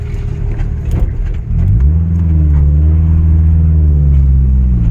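Nissan 240sx engine running with a shop vac used as its intake, idling roughly, then catching and settling into a steady low drone with a rising pitch sweep, loud and close.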